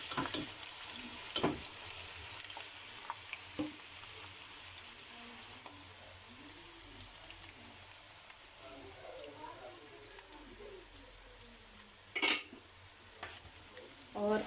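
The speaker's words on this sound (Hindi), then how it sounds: "आलू और प्याज को डीप फ्राई होने के लिए इस ऑयल में डाल देते हैं" Potatoes and onions deep frying in plenty of oil for egg khagina give a soft continuous sizzle and bubbling, with occasional clinks and stirring knocks of utensils against the pan.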